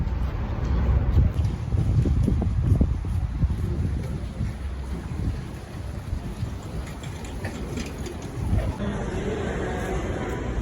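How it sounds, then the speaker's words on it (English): Gusty wind buffets the microphone with low rumbling roar, stronger at the start and easing later, steady noise throughout. "It's kind of windy too."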